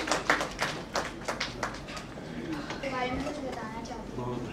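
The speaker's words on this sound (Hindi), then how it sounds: "जोरदार तालियां" Sharp hand claps from an audience at a school event with small girls presenting a poem, fairly close and quickly fading into a voice that keeps talking.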